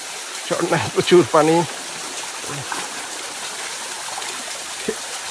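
A steady wash of falling water from a full waterfall in Bandarban hisses throughout, with a brief burst of voices near the start and then mostly the flow alone.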